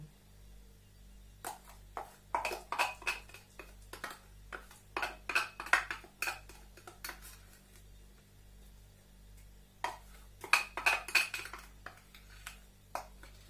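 A metal spoon scrapes and taps against a baking sheet while spreading apple roll filling, in irregular clusters of clinks and scrapes, with a steady low hum underneath.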